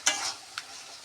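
Loitta (Bombay duck) fish curry stirred in a pan over a medium flame: two short, close scraping stirs, the second softer, with a quiet frying hiss between and no talking.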